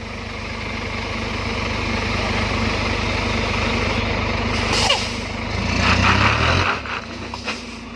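A Scania P410 truck reversing while stuck on a tree stump: a steady, droning diesel idle close by, rising into a heavier surge of revs near the end before settling back.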